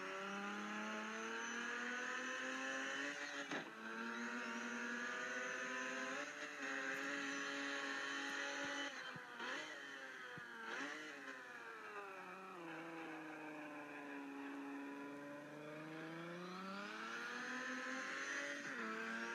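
Car engine revving steadily as it drives and accelerates, pitch rising and falling through gear changes and corners, continuous and fairly close with no talking.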